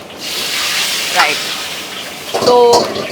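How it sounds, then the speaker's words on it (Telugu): Water is poured into spiced boiled mutton cooking in a pan with chili powder, coriander powder, cumin and turmeric, giving a brief splashing pour and a sizzle that rises near the end, close by and fairly loud. "అదంతా మాంసానికి అంతా పట్టాలి అంటే కొంచెం వాటర్ యాడ్ చేసుకోవాలి"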